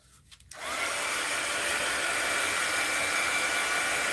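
A dryer switches on after a brief moment of quiet to dry a mixed-media art card, then holds a loud, steady, close whooshing roar of blown air through to the end.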